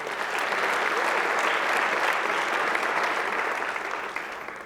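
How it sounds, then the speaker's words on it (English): Steady applause from an awards-ceremony audience at a cricket awards evening, a dense continuous wash of clapping that holds level for several seconds and begins to thin at the end. "Let's give a big round of applause to Sinalo Jafta."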